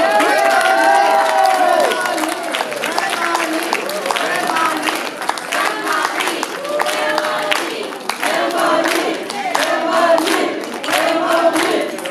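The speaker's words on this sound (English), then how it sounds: "Let's give Grandma Lee a round of applause" Crowd applause and cheering fill a hall at a comfort women memorial reception in San Francisco, a dense, steady wash of clapping with scattered whoops throughout, and voices murmur beneath it.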